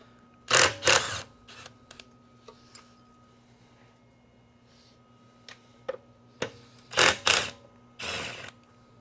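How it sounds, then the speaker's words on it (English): Short bursts of close, sharp ratchet-like clicks come from loosening 13mm nuts on a Surron electric bike, with quiet gaps between the bursts. "I'm going to go ahead and loosen all of these 13mm nuts"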